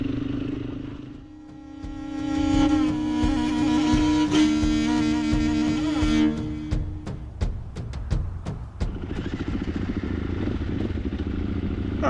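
Enduro motorcycle riding over sand dunes in the Gobi Desert, engine rising from a low rumble to a loud sustained rev, then sharp clattering bursts and a rougher, choppier drone toward the end.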